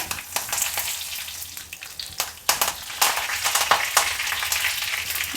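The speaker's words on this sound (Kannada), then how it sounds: "ಕರಿಬೇವಿನ ಸೊಪ್ಪು ಹಾಕ್ತಾಯಿದ್ದೀನಿ" Curry leaves hit hot oil in a buttermilk rasam tempering with a loud, steady sizzle, broken by sharp crackling bursts and spatters throughout, close and with no voices.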